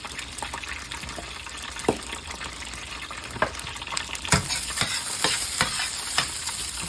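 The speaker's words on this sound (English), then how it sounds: "I'm going to stir our sauce here" A spoon stirs sauce around a pan, giving repeated scraping strokes over a steady sizzle, with a few sharper clicks of utensil on metal close by.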